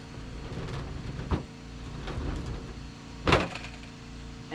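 EcoFlow Delta Pro solar generator rolling on its wheels over a metal surface, a low rumbling roll with a few sharp bumps and knocks.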